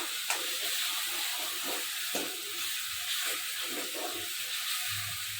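Green chillies fry in hot oil with a steady, close hiss and sizzle, plus faint crackles and light stirring knocks, and no one talks.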